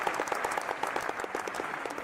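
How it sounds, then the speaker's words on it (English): A round of applause on a football talk show's call-in segment, fairly rapid clapping with a thin, roomy sound, steady and continuous for a couple of seconds with no talk on top. "round of applause for NL"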